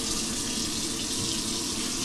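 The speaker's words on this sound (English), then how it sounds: "Let's wash it with cold water. Put it to cold. Let it run a little bit." Cold water runs steadily from a tap to rinse a Dyson V15 Detect filter, a continuous broadband hiss and splash that stays even and close throughout, with no voices.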